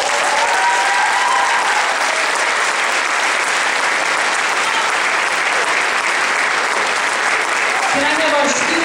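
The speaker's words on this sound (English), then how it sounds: "Round of applause, please, for them." Loud, sustained applause from a crowd at a school assembly, honoring student leaders, a dense clapping wash lasting several seconds before tapering near the end.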